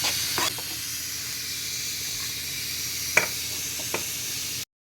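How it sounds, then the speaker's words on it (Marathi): Grated coconut dry-roasting in a pan without oil, a soft steady hiss with a few scrapes and taps of a spoon against the pan, nearby and unaccompanied by talk, ending abruptly. "आता मी खोबरं भाजायला घालत आहे त्याला तेल घालणार नाही कारण त्याला स्वतःच तेल असतं ते मी आता भाजत आहे"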